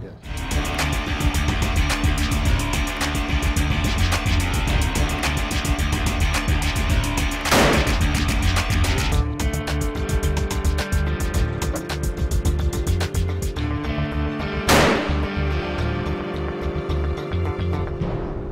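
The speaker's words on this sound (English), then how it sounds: "we're going to make sure the sights on our rifles were not disturbed in transit and get ready to do some accurate shooting" Two sharp rifle shots ring out about seven seconds apart as hunting rifles are sighted in on safari, each a sudden loud crack over a dense, continuous background.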